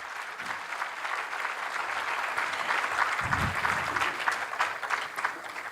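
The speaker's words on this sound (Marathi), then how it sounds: "जोरदार टाळ्या त्यांच्यासाठी." Sustained audience applause for dignitaries taking their seats at a talk event, a steady wash of clapping from a large crowd lasting the whole stretch, fairly distant and even.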